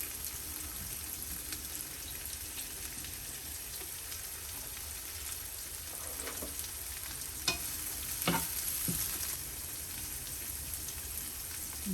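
Onions and peppers fry on a grill for a turkey sausage meal, making a continuous, even sizzle throughout with a few brief clicks and scrapes of a utensil near the end.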